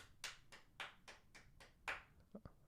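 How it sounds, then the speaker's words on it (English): Several sharp hand claps, spaced roughly half a second apart, then a few quicker lighter taps at the end, all faint and distant, as if picked up from another room during a podcast recording. "You heard the clapping?"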